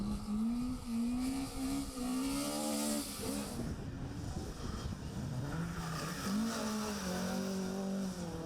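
Ford Escort rally car on a stage in Anglesey, engine howling steadily with pitch swings as it revs, brakes and pivots through a handbrake turn, tyres scrubbing on the surface throughout.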